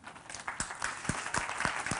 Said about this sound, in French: Je crois qu'effectivement, on peut l'applaudir.